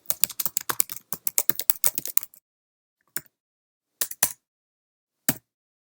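Close, crisp keystrokes on a computer keyboard come as a rapid burst of typing, then a few isolated taps after short pauses.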